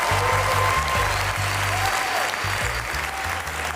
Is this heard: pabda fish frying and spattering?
no